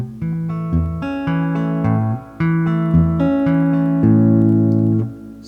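Guitar fingerpicked in Travis style on a tune, a thumb alternating bass notes under short melodic plucks, close and clear, a few seconds of steady picking with no voice.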